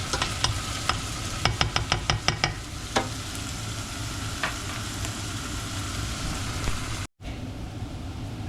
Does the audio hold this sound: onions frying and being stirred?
yes